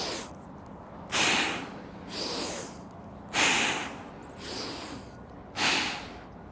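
Five forceful, breathy exhales come at a regular rhythm during a single-arm heavy bag exercise, close and sharp, each a short hissing burst separated by quieter pauses.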